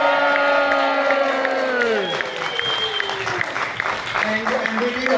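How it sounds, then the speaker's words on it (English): A small-town crowd in Nimmitabel cheers and claps after a recitation of Mulga Bill's Bicycle, lively mixed applause and whoops with voices and a sliding tonal sound running through it. "Cheering!"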